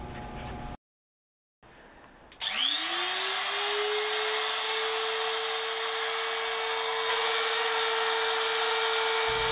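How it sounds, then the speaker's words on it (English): A router fitted with a profile bit cuts into an oak board, spinning up sharply after a brief silence into a loud, steady high-pitched whine that holds without pause. "So I just went over all of the lines with the profile bit."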